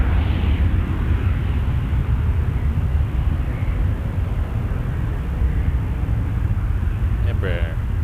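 An Embraer 175 airliner at Toronto Pearson Airport produces a steady, loud, broadband jet roar with deep rumbling low end that holds throughout. A brief voice is audible near the end.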